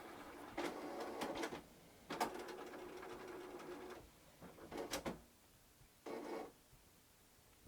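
Intermittent whirring and clattering bursts of a printer running, starting and stopping several times in a quiet room, fairly faint.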